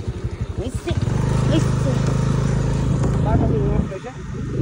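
A scooter carrying three riders runs steadily on a small road, its engine a continuous low drone from about the first second onward, with people talking over it before it fades near the end.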